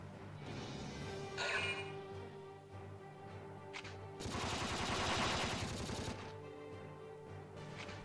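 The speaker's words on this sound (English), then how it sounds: "Thank goodness their machine guns are so wildly inaccurate." Rapid machine gun bursts rattle through a Valkyria Chronicles 2 battle, a dense sustained volley swelling loudly in the middle of the stretch over a steady game soundtrack.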